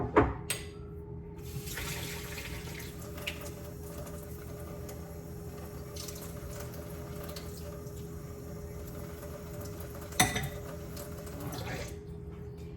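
Tap water runs into a baking bowl at a kitchen sink during holiday baking, a quiet, steady stream with a clunk at the start and another knock near the end.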